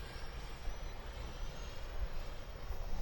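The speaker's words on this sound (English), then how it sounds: "About half throttle, nice cruising speed." E-flite F-16 70 mm electric ducted-fan RC jet cruising at half throttle, a steady rushing whine with wind-like rumble, moderately distant and continuous, no voices.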